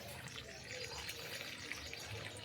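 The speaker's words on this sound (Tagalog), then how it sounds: "Pinapatubigan ko para kahit na ilang araw na hindi magpunta dito." Water pouring steadily onto eggplant plants in a backyard garden plot, a continuous close splashing hiss with no break.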